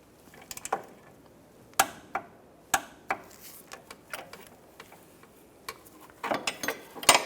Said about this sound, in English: Then I'm going to torque this to 56 foot-pounds